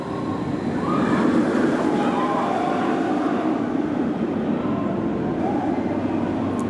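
Roller coaster trains at Phantasialand amusement park rumble past in a steady, sustained roar, with a broad continuous rush of noise and faint distant voices mixed in.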